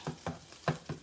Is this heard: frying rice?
yes